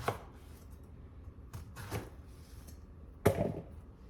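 Eggplants being sliced on a cutting board with a knife: a handful of separate, close chopping thuds at an uneven pace, the last one the loudest, with quiet pauses between.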